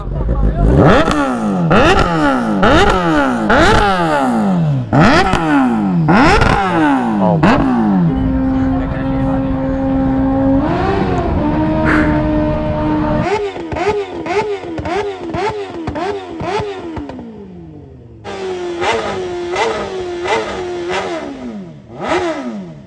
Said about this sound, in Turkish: Ara gazlar veriliyor.